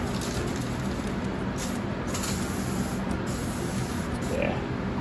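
A continuous hiss of liquid sprayed from a nearby spray bottle onto a John Deere JD110 mower, steady and fairly loud for several seconds without pause.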